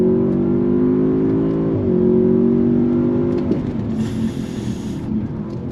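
A 2023 Audi S8 luxury sedan accelerates hard from a slow roll in second gear, its engine droning loud and steady from inside the cabin, rising in pitch before easing off near the end.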